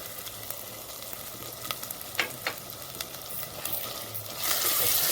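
Ginger garlic paste with green chillies and tomato frying in an oiled pot for aloo methi curry: a steady close sizzle with scattered spits and stirring scrapes, swelling louder near the end, no voices.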